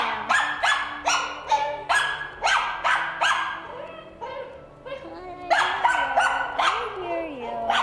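A puppy at an animal rescue in Phoenix, Arizona barks repeatedly in sharp, regular yips, then whines and whimpers, close by, with a person talking at times.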